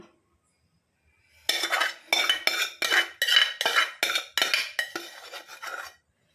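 Paneer is rubbed against a metal grater in about a dozen quick, rhythmic rasping strokes that start after a short silence and sound close and crisp, with no talk.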